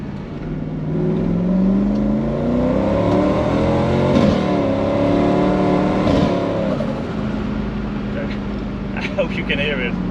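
A 600-horsepower Mercedes S124 with a tuned turbocharged V8 and an opened exhaust rumbles and revs, pitch rising and falling steadily under a voice talking.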